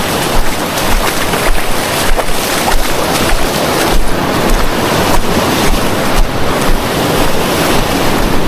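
Rough sea waves surge and wash at a coastal fishing spot, a loud continuous roar with rhythmic swells, mixed with gusty wind buffeting the microphone.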